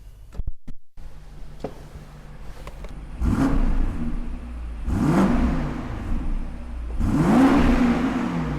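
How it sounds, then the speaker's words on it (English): A 2022 BMW X5 M50i exhaust revs in three strong bursts, each a deep rumbling roar that rises then settles back to a low idle, with a few clicks before. "I love the sound of that exhaust"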